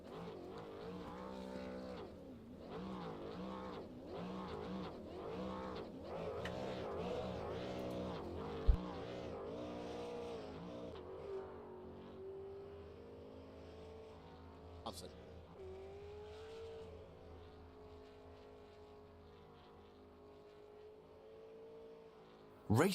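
A race car engine roars and revs along the front straightaway at Concord in the ASRL Barry Elvis P&F Super Series sim race, its pitch rising and falling as it shifts, then settling into a steadier drone beneath an announcer's voice.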